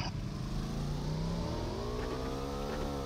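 Burning motorbike engine in a video game, revving up steadily with a rising, sustained tone that stays loud and continuous throughout.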